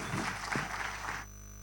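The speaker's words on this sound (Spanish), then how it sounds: "Un fuerte aplauso, por favor." A burst of audience applause at a traditional music competition, dense clapping for about a second before cutting off abruptly, leaving a low steady hum.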